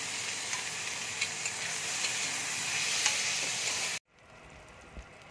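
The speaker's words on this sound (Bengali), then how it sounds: "এবার আমি টমেটোটা দিয়ে দিচ্ছি, লঙ্কা কুচি দিয়ে দিচ্ছি," Tomato and chopped green chili hitting browned onion in a hot pan, a loud continuous sizzle that cuts off abruptly to a much quieter simmer near the end, with a soft knock as it settles.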